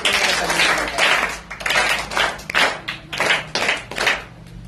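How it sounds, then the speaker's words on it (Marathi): Audience applause at a science day demonstration, with loud, dense clapping near the listener that rises and falls in waves for several seconds before thinning out, and no voices above it. "जोरदार टाळ्या"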